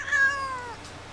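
A female cat in heat lets out a single close, drawn-out wailing meow that rises and then fades, alone without any talking.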